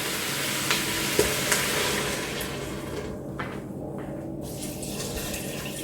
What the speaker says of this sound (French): je vais verser 3 fois le volume des lentilles en eau